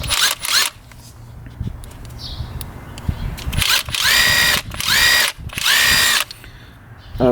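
Bosch Freak impact wrench loosening pre-torqued lug nuts on a wheel, loud close bursts of rattling hammering, one short blast at the start then four longer blasts in quick succession, with quieter pauses between.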